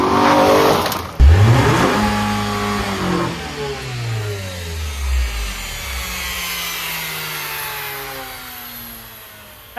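A Nissan Altima's engine revs hard and loud nearby, with a sharp jump in level near the start and then sweeping rises and falls in pitch as it climbs and drops through several revs.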